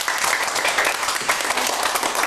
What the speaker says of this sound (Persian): خب دوستان علیرضا جان را خوب تشویق کنید